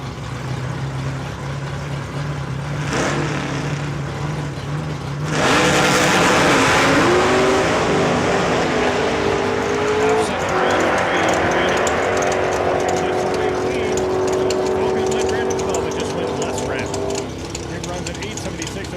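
A 1970 El Camino makes a drag run at Saskatchewan International Raceway, its engine droning low, then roaring loud as it launches and climbs through the gears, while an announcer talks over the track sound.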